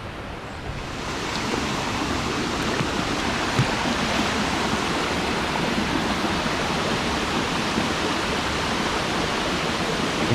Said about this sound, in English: You can feel the spray from the waterfall.